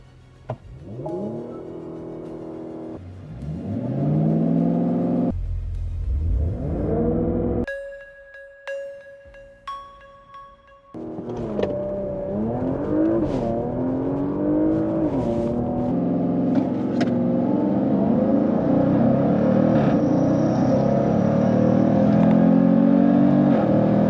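A 2024 Jaguar F-Pace SVR and a Porsche Macan GTS accelerate hard side by side in a drag race, engines roaring and revving loudly with rising pitch sweeps and a brief chime in between, building to a sustained roar.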